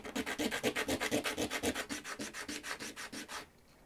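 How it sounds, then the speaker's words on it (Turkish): Steady, rhythmic back-and-forth scraping of a coin, numbered face down, on sandpaper, about twenty even strokes, close and loud, then stopping abruptly into quiet. "Bozuk paramı rakamların yazdığı yüz alta gelecek şekilde zımparanın üzerine koyup mümkün olduğu kadar güçlü şekilde zımparalıyorum"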